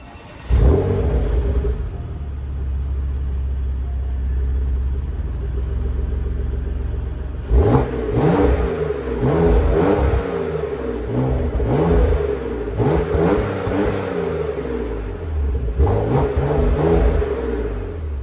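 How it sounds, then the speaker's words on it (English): A Porsche Macan Turbo engine idles with a low rumble, then revs hard several times in sharp bursts, turbo spooling, exhaust crackling and popping between the loud revs. "really hear the turbo spool and some crackles and pops from the exhaust."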